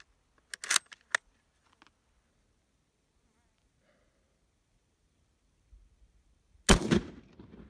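Italian surplus 8mm ammunition firing after a delayed hang fire, several sharp cracks early on, quiet stretch, then one loud close shot with a trailing echo near the end.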